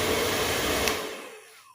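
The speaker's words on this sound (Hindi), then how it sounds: "ये फुल हीट वाला ऑप्शन आ गया" A handheld hair dryer runs on its full heat setting with a steady, loud rushing whir, close by, then winds down and fades as it is switched off.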